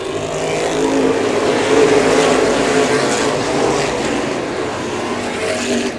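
Open wheel modified race cars at Showtime Speedway's Ice Crusher race taking the green flag, a loud, dense pack of engines roaring together at full throttle, swelling slightly and then holding steady.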